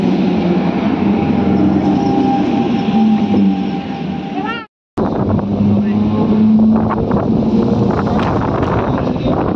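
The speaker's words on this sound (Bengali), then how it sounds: "অবশেষে আসছে ট্রেন, দেখা গেছে," Local train on a West Bengal line pulling into a station, a loud rumbling roar with wind buffeting, a short cut of silence, then continued clattering and rolling noise close by.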